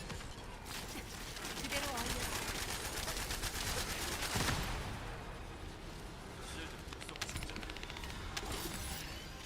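Dense weapon fire in the shooter game The First Descendant, an endgame weapon being tested, rattles on continuously as a busy wash of rapid shots and effects throughout, with a voice talking over it.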